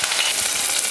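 Mustard seeds, urad dal and curry leaves temper in hot oil, producing a loud, dense sizzle that crackles close by without a break and with no talking.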